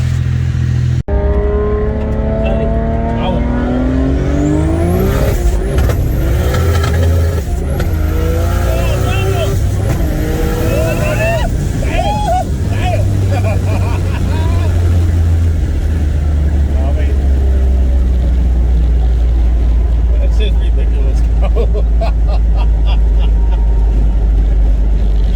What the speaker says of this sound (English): Letting it warm up. It's a cold start.